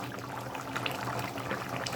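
Chicken kulambu bubbling in a pot, a steady, soft, close simmer with gentle popping bubbles and no talking.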